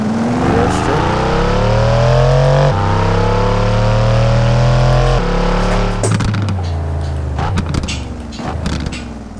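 A car in Assetto Corsa runs on an airstrip, its engine droning loud and close as revs climb and drop through several gear changes, then broken, bumpy sputters and pops toward the end.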